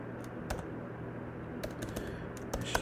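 Someone types on a computer keyboard in a classroom robotics lesson, a handful of sparse, light key clicks scattered over a steady background hum, with no talking.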